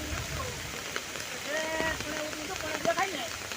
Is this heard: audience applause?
no